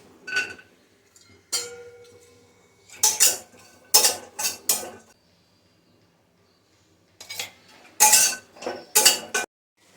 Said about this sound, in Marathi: आता अंजीर थोडं भाजून घेते